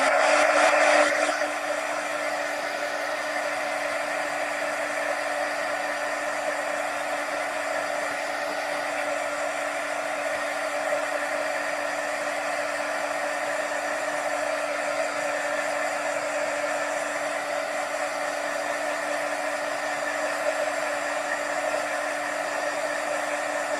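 A hair dryer blows steadily on Elmer's glue for a crackle-effect craft, a constant close whir and hum that starts with a brief louder burst and holds level for over twenty seconds.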